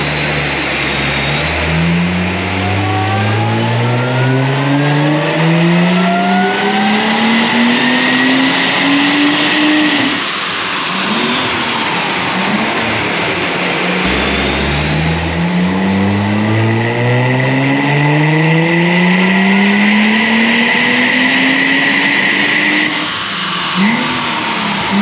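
Supercharged Mercedes C32 AMG engine on a dyno, revving hard through rising gear sweeps twice in succession, a loud close roar with a whining supercharger, pausing briefly between pulls.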